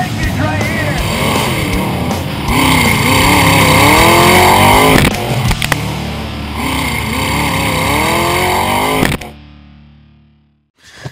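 Off-road rock racing vehicles at Dirty Turtle Off-Road Park in Bedford, Kentucky, rev their engines in loud, distorted, rising and falling roars under an announcer's voice, then cut off abruptly into near silence.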